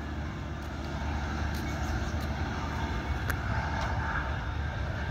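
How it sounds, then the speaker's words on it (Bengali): Diesel local train on a private metro railway running through a station, a continuous loud broadband engine rumble and rolling noise that holds steady throughout, with faint clanks and squeals rising above it. "এই রেল চলছে, এটা বেসরকারি মেট্রো রেলওয়ে।"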